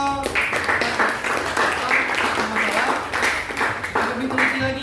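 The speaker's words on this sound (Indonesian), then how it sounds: "Tepuk tangan dulu untuk kelompok" Clapping for a student group in a classroom session, a steady patter of hands running throughout, with voices talking over it.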